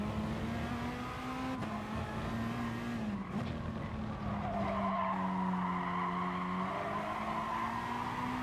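A race car's tires skid and squeal in GT Sport, a loud sustained screech with wavering pitch lasting several seconds, riding over a steady engine drone.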